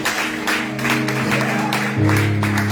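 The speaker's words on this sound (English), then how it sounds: "I thought we would clap hands, my goodness" A church congregation claps hands together, a dense wash of applause with a low steady hum underneath that swells slightly louder near the end.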